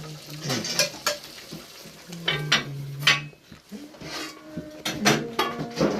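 Adobo being sautéed in a pan, with a utensil stirring and scraping against metal in short bursts amid a soft sizzle, close and clear.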